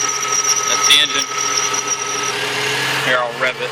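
A 1993 truck engine runs steadily up close, a constant droning hum with a higher whine on top and a couple of brief clanks.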